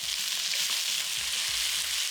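Onion sizzling as it hits hot avocado oil in a preheated wok-style pan, a loud steady fry filling the whole stretch, with a few low knocks of stirring underneath.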